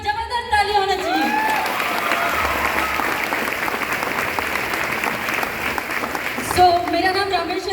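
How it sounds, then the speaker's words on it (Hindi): Audience applause at a university event, a dense sustained clapping roar filling most of the stretch, with a voice speaking at the start and again at the end. "एक बार जबरदस्त ताली होना चाहिए"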